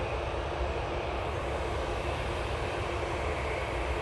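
Airliner jet engines drone steadily at an airport, a broad continuous roar heard from a moderate distance without any talk.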